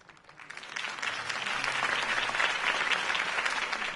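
Crowd applause at a Harvey Dent campaign rally in Batman: The Telltale Series, a dense, sustained wash of clapping that swells in after a quiet start and holds steady, with no talk over it.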